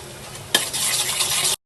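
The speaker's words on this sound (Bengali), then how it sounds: "মশলাকে খুব ভালো করে হচ্ছে কষে নেব।" Sunrise-brand tadka masala spices stirred and fried on a low flame in a pan for dal, giving a dense, close sizzle with a sharp scrape or clink at the start that stops abruptly.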